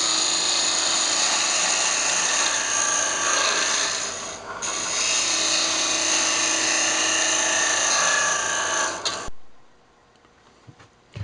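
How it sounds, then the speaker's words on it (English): A scraper rubs steadily against the spinning sides of a walnut lidded box on a wood lathe, a loud continuous rasping drone that briefly dips once, then cuts off abruptly into near silence. "I'm just going to come on with a scraper here and clean the sides up."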